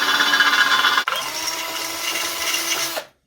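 A power drill whines steadily while boring a hole in a metal mask, with a brief dip partway through and an abrupt stop at the end.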